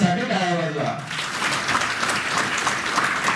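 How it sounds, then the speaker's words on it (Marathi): A hall full of women at a public government-scheme event breaks into applause after a short spoken phrase. The clapping is dense, loud and sustained, filling the room. "त्यामुळे सगळ्यांनी स्वतःसाठी टाळ्या वाजवा"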